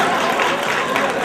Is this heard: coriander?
no